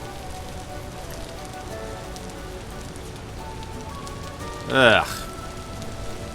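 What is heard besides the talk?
rain falling in the video game Vintage Story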